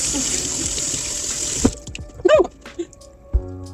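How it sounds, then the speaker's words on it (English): Canned chickpeas rinsed under a running kitchen tap: a steady hiss of water stops abruptly, followed by a few scattered drips, splashes and clinks as the chickpeas drain. "Just gonna give these a nice rinse, and it said to drain them."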